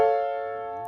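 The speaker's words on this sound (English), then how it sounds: "We're going to call this an augmented triad." An augmented triad built from two stacked major thirds sounds as a single struck chord, sustained and slowly fading, clear and alone.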